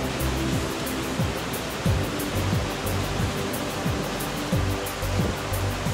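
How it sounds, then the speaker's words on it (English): Beaver Brook Falls, a New England waterfall on Beaver Brook in a canyon in Keene, New Hampshire, roars in a loud, steady, broadband rush of falling water close by, with no talking. "Beaver Brook Canyon, its namesake brook, and this beautiful New England waterfall"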